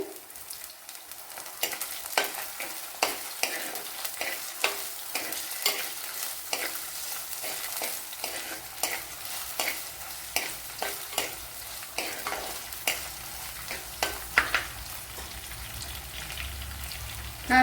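Green chilies and dried red chilies fry in hot oil with ginger for a Kottayam-style fish curry: a steady, close sizzle broken by regular scraping stirs, with no talking.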